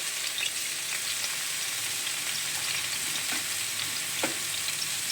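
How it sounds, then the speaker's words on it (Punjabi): Garlic and ginger paste fries in hot oil in a pan, a continuous dense sizzle with faint stirring scrapes and an occasional pop, close up and steady with no talking. "ਹੁਣ ਜਰਾ ਜਿਹਾ ਤੇਲ ਗਰਮ ਹੋ ਜਾਂਦਾ ਤੇ ਇਹਦੇ ਵਿੱਚ ਅਸੀਂ ਸੁੱਟਾਂਗੇ ਸਭ ਤੋਂ ਪਹਿਲੇ ਲਸਣ ਤੇ ਅਦਰਕ ਦੀ ਪੇਸਟ"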